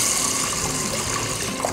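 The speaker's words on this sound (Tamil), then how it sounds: "கொஞ்சம் தண்ணி ஊற்றி கழுவிக்கோங்க." Water sloshes and runs steadily as green gram and toor dal are rinsed inside a pressure cooker, a continuous close wash with no talking.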